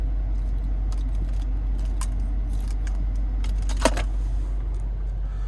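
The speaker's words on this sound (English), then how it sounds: "Finally, here's the key fob." Keys on a 2019 BMW M5 fob jangle in a few light, metallic clinks over a steady low car hum, with one brighter rattle near the end and no talking.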